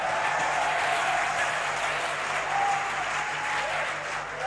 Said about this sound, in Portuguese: Vamos, aplauda ele forte,